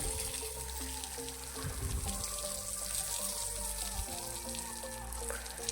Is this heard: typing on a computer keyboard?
no